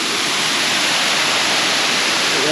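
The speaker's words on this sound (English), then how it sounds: "you can see a nice little river rapid coming through there as well" River rapids near a waterfall at Harvey Dam rush in a loud, continuous broadband roar, close and unbroken for the whole stretch with no voices.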